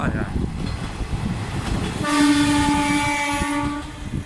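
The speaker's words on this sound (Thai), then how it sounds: "รถไฟ รถไฟ" A train in Japan rumbles past, then its horn blows one long steady tone over clattering wheels, loud and fairly close.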